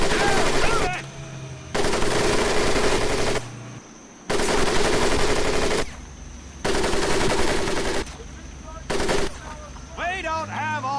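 Machine gun fire in the WWII shooter Medal of Honor: Pacific Assault comes in long, loud sustained bursts separated by short gaps, with a drill-instructor voice speaking between and under the volleys.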